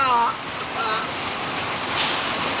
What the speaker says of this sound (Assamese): আহি গ'ল জোৰে বৰষুণ, ধুমুহা বতাহ